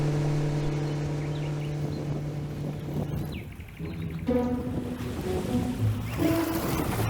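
Waves on the Yangtze River wash steadily outdoors, a broad continuous surge with wind and a low rumble like a passing boat, loud and close without any talk.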